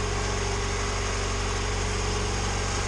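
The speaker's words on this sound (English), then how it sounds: "I love how smooth this engine runs." A turbocharged Honda Civic with a GSR engine swap idles smoothly and steadily, a close, continuous hum with an even low pulse and no revving or voices over it.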